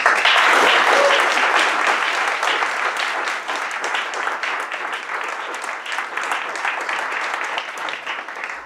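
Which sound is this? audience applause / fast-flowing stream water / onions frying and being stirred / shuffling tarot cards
audience applause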